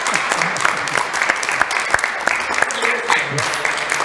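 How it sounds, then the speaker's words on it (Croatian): A television studio audience claps in a lively burst, with distinct sharp hand claps over a steady clapping bed, while people talk and laugh underneath. "vi nemojte pljeskat na krivom mjestu"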